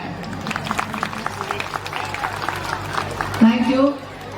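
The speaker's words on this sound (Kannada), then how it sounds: "ಆ ಮಕ್ಕಳಿಗೆಲ್ಲರಿಗೂ ನನ್ನ ಕಡೆಯಿಂದ ಒಂದ್ಸತಿ ಜೋರು ಚಪ್ಪಾಳೆ" A school crowd breaks into loud applause for the children at a school function honouring an actress, a crowd of hands clapping in a steady patter with voices and calls mixed in and a brief swell near the end.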